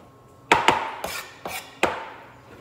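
A knife slices through plain olives on a cutting board, five sharp, close taps at uneven intervals with quiet pauses between them.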